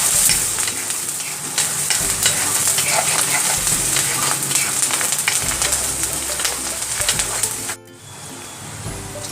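Onions fry in hot oil in a pan while being stirred, giving a steady, close sizzle with scraping strokes that run continuously and then drop off sharply near the end.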